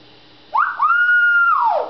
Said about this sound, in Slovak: Krásne pískaš.